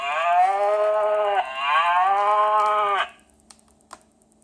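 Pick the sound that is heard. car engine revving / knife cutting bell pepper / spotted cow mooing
spotted cow mooing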